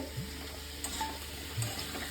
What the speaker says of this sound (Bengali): দেখুন আমি আলুটা লাল লাল করে ভাজছি